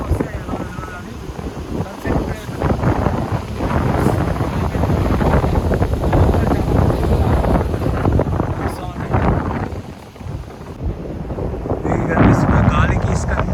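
Strong wind blows across a beach in Kerala, sweeping sand along and buffeting the microphone in loud, continuous gusts while a person talks over it.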